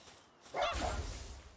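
A Dire Howl pal from the Palworld video game barks once in a short, close, fairly loud burst after a quiet moment, followed by lingering low rumble and game noise.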